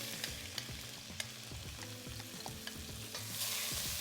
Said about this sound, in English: we will saute our vegetables. First, we'll add the onions